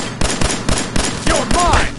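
Repeated gunshots ring out in the video game Fallout 4, loud bursts arriving roughly every quarter second in a steady rhythm, with brief whistling tones sliding through near the end.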